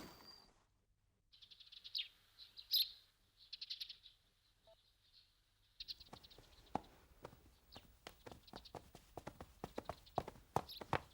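Horse hooves clip-clop in a quick galloping rhythm that starts about halfway through and grows loud and close, after an opening of faint birdsong and chirps, with no voices.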